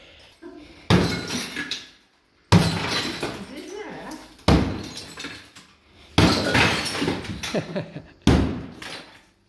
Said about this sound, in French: Donc c'est le premier mur qu'on casse. C'est mon père qui a mis les premiers coups de masse.